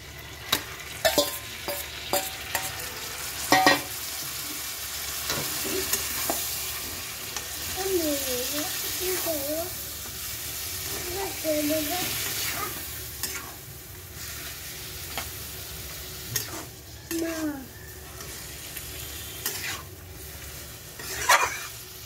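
Dudh man taro leaves cook with a hilsa head in a pan, stirred with a spoon. A steady sizzle and repeated scraping run throughout, with a few squeaky, wavering tones rising in the middle.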